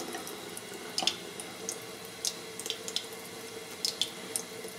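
A tap runs to wet one side of a Stirling alum block, a soft steady stream with faint splashes and drips, quiet and close with no talking.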